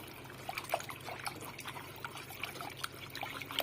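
Cold water poured into a pot of Turkish red lentil soup, a thin steady trickle with soft splashes and small clinks, fairly quiet and close.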